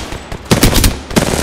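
Video game gunfire, a short burst of rapid automatic shots in two quick clusters, loud and close with no talking.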